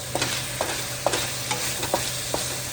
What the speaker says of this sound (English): Frying the chicken first.